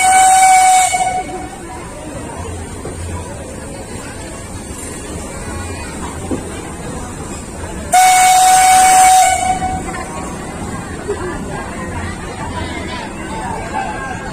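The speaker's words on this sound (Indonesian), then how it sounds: "kita ketemu dengan kereta api lama ini" An old steam train moving through a city street during a car-free day, its steam whistle blowing twice in long loud blasts with a hiss of steam, over crowd babble and people talking nearby.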